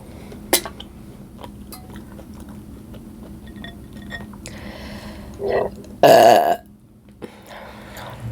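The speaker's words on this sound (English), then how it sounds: "I got a burp." Single loud, close burp during a mussels and sausage meal, preceded by soft chewing and small mouth noises, with a short voiced sound just before it.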